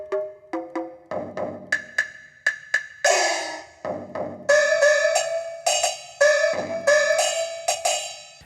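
The ethnic sound set on a Greaten AP500 Pro EWI wind synthesizer plays a run of short plucked, percussive notes, each attack decaying quickly, growing busier and brighter toward the end.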